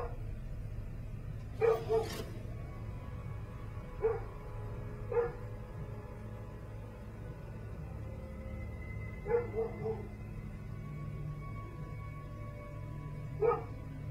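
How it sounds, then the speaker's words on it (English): A dog indoors lets out several separate barks spaced a few seconds apart, mid-loud against a quiet background with low game sound beneath. "He's barking real good now."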